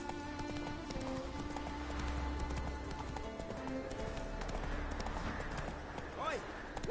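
A horse gallops in The Witcher 3, its hoofbeats a quick, steady clip-clop over a background of game music and ambience, with a voice briefly heard.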